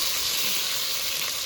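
Ground cumin, chilli and ginger pastes hitting a pan of frying tomato, a loud, close, continuous hissing sizzle lasting a brief moment, with no voices.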